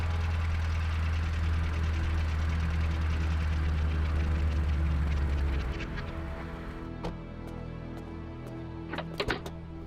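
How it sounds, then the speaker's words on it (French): A car engine in an animated cartoon, a loud low rumble that fades into a softer idle, followed by a few sharp knocks or clicks near the end. "Écoutez, voilà une voiture."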